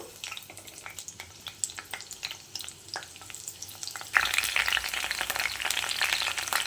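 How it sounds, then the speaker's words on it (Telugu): Green chillies and curry leaves frying in about two spoons of hot oil in a kadai, a soft crackle with spatula clicks that bursts into a louder, bright sizzle midway, close and without talk. "ఇప్పుడైతే పచ్చిమిర్చి వేసేస్తున్నాను. అలాగే కరివేపాకు,"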